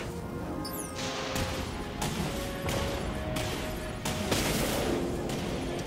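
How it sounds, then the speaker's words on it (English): Torpedoes launch from a ship in the space combat game Dreadnought as a rapid volley of loud, punchy blasts, several in quick succession over steady engine rumble. Nobody talks. "Launching torpedoes."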